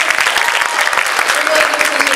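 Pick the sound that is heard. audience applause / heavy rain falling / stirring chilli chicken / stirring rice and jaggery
audience applause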